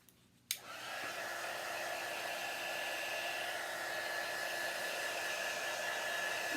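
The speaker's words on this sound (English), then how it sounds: "And dry it." A hair dryer blows on freshly pasted glue on a dark wooden box, switching on with a click and then holding a steady, close, loud whooshing drone throughout.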